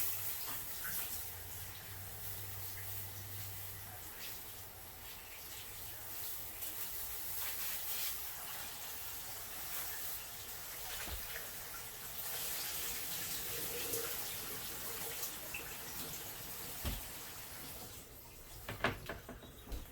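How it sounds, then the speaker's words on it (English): Tap water runs steadily into a kitchen sink while fresh chili peppers are rinsed, a soft continuous hiss with faint splashes and a few clatters near the end. "A little water, give it a rinsey."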